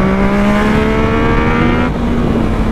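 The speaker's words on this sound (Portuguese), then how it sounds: "Tô acelerando pra sentir a moto aqui." A Yamaha MT-09 motorcycle's engine revs hard while riding in traffic, a loud, close, steady drone holding pitch and then rising slightly, with no talk.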